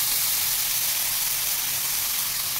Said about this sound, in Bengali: তেল গরম হয়ে গেছে, জিরে ফোড়ন দিয়ে দিচ্ছি